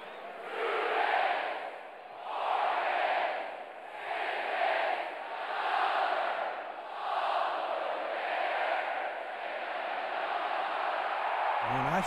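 A packed Florida Gators stadium crowd follows Mr. Two-Bits' traditional cheer, large roaring chant swelling and fading in five or six rhythmic waves, distant and reverberant, then settling into sustained noise before cutting off.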